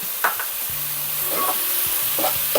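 Onions fry in a pan with salt and fenugreek leaves for Telangana-style country chicken pulusu, a close, even sizzle with several spoon scrapes and clinks as they are stirred.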